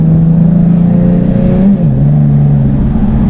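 A 380bhp Nissan 370Z with an automatic gearbox pulls hard with a loud, close engine drone heard from inside the car. A quick gear change briefly dips the pitch before the revs climb again.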